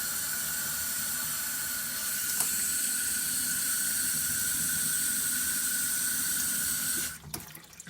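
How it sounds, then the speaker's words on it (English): Filtered water runs steadily from a laundry sink faucet in a continuous close hiss and splash, then is shut off near the end with a few drips and clicks, with no talk. "And you now have filtered water directly out of your faucet"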